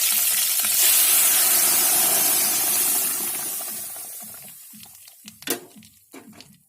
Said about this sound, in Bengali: দেখো এটা কত সুন্দর ফুটছে